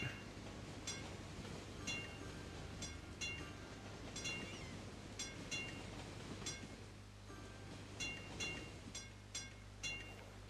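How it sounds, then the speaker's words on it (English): Trams roll through a snowy city in the PS4 edition of Cities: Skylines, giving a faint, steady rail rumble with repeated clicking and clacking of wheels on the track under a low hum. "You can see our trams running through."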